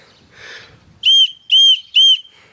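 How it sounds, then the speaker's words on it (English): Three loud, steady, high-pitched whistle blasts of equal length, each around a quarter second apart, from a turbo whistler for a car exhaust blown by mouth, close up, after a faint breathy sound. "We got the turbo whistlers right here."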